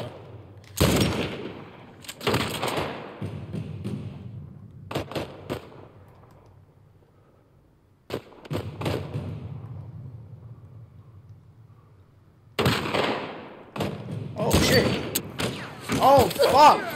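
Gunshots in the video game The Last of Us Part 1, several loud sharp blasts and thuds in clusters separated by quieter stretches of low rumble, with a voice speaking in places.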